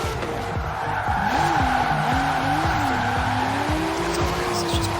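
Car drifting in Forza Horizon 4, with a sustained, wavering tire squeal over a steady engine drone that runs loud and continuous throughout, and a voice talking over it.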